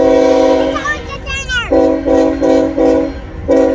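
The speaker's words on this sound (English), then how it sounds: "Did you hear it blow its horn special for you?" A Norfolk Southern freight train sounds its horn at a railroad crossing in Chattanooga, Tennessee: a bending whistle-like glide, then several loud sustained blasts in a repeating pattern over rumbling rail noise, with faint voices nearby.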